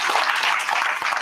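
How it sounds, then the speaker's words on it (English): Audience at a National Black Nurses Association live event claps together, a loud, dense burst of applause filling the whole short moment with no voice over it. "Can we just clap our hands for the amazing Black excellence in the room?"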